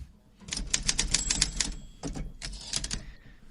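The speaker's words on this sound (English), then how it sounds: "All right, Luigi, how about that typewriter?" A typewriter clatters with rapid bursts of key strikes, a short pause, then more typing and a bell-like ding, close and clear with no voices.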